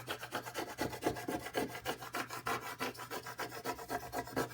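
Scraper burnishing heat transfer vinyl onto a carrier sheet: quick, steady back-and-forth rubbing strokes, close and fairly quiet, with no talking.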